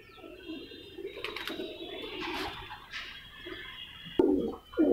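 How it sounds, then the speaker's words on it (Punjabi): Pigeons kept in a rooftop coop, large breeder pairs, make soft low cooing and rustling nearby, with a couple of louder coos toward the end over faint background noise. "ਇੱਕ ਖੁੱਡਾ ਇਹ ਹੈ ਜੀ, ਇਹਦੇ ਵਿੱਚ ਵੱਡੇ ਪੰਛੀ ਨੇ ਜੀ"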